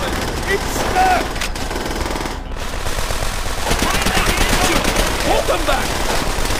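Sustained machine gun fire in the Call of Duty: World at War video game, loud and continuous bursts of rapid gunfire with scattered battlefield shots and shouted voices under the barrage.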